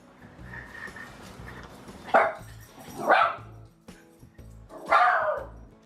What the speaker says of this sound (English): Ah, shut up, dog.